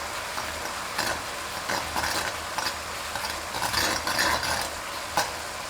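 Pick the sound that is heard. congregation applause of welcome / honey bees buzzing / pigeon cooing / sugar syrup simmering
sugar syrup simmering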